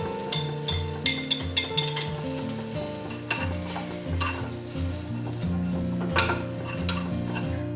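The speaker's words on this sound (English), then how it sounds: "Then stir fry the carrot." Carrots stir-fry in a hot pan for vegan Vietnamese summer rolls, with busy sizzling, repeated scrapes and clinks of a utensil against the pan, close up over soft steady background music.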